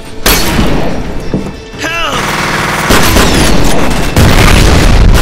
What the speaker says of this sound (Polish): bo oni strzelili w samochód, dlatego wybuchło